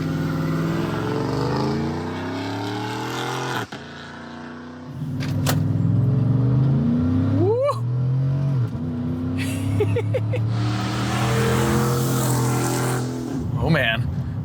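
A supercharged Chevrolet Silverado pickup launches from a stop and accelerates toward 60 mph, its engine rising and falling through gear changes, heard close from inside the cab with occupants talking over it.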